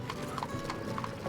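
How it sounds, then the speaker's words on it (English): Working horses in Guatemala clip-clopping on a hard surface, with a quick, steady run of hoofbeats close by. "the working horses, donkeys, and mules who help them produce food, carry goods, and transport people"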